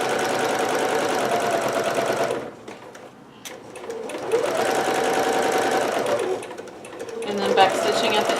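A sewing machine stitching a seam on a Pikachu dress runs in fast, steady bursts, pausing briefly and restarting, close and loud, with a voice talking over it.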